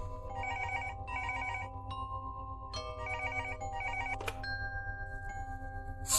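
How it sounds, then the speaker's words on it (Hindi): A telephone rings in a repeated electronic ringtone, bursts of chiming tones broken by short pauses, clear and steady over a low background hum with no talk. "फोन बजा।"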